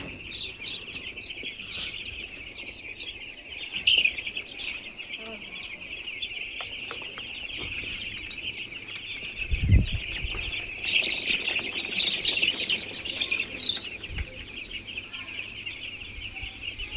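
Poultry on a farm being given vaccine-treated drinking water cluck and chirp continuously at close range, with a few louder bumps and some faint talking in the background.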